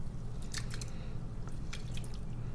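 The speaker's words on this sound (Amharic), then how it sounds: "ምስሬን ውሃ ሙቅ ያለ ውሃ ትንሽ አድርግና በደንብ አድርጌ አጥባለሁ" Red lentils washed by hand in warm water for an Ethiopian lentil stew: soft, faint squishing and small drips, watery splashes coming in two brief bursts over a low steady hum.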